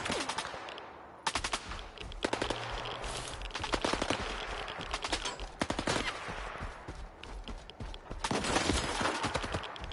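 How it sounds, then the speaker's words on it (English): Gunfire in the video game Stalker 2 in the Jupiter region: dense bursts of automatic weapon fire and rapid shots crackling in clusters throughout, loud and sharp with brief gaps between volleys. "Is somebody shooting at me?"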